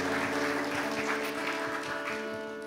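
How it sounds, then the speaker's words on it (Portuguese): Applause from a prayer gathering during a Rosary broadcast, heard beneath sustained organ-like music that largely masks the clapping. "Vamos aplaudir, gente."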